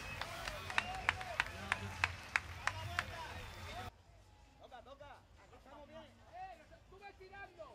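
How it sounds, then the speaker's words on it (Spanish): Audience applause at a Festa Major 2014 performance, a steady run of sharp claps for about four seconds, then giving way to a murmur of crowd voices and talk. "un aplauso para vosotros que lo habéis hecho muy bien"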